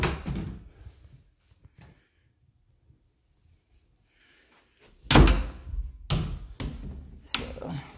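Double closet doors in a large bedroom of a house are handled, first with faint movement, then with several loud wooden thumps and knocks close by.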